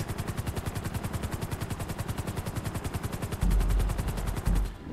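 Rapid machine gun fire in GTA 5 Online, a steady fast-repeating stream of loud shots that runs for several seconds, then a heavier rumbling burst and a brief pause.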